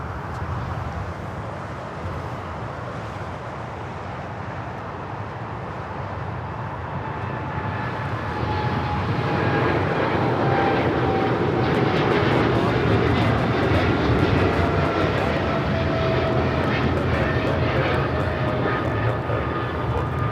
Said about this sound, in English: That is Coletta Air Flight 214, 777 freighter.